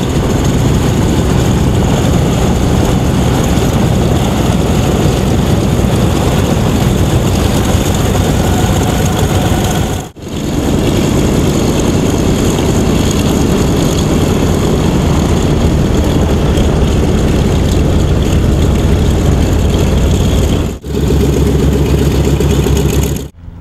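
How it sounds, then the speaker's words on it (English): An F6F Hellcat fighter plane's propeller engine roars continuously and very loud on arrival at a museum of flight, a dense steady rumble broken by two brief dropouts. "I'm here with Chris Rushing, and he just flew in this Hellcat."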